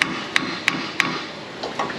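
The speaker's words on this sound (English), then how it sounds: "I'm going to gently take the hammer, try to run this up" A hammer taps a wheel part on a Ford F250 with loose lug nuts, four sharp evenly spaced metallic strikes followed by a couple of softer knocks, close and clear with no talk.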